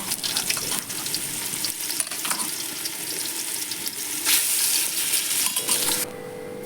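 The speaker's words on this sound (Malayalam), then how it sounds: "അതിലാദ്യം നമുക്ക് ചിക്കൻ പൊരിച്ചെടുക്കാം." Chicken pieces fry in hot oil in a pan, giving a dense crackling sizzle with sharp pops and spatters that swell and ease, ending with a quieter steady hiss.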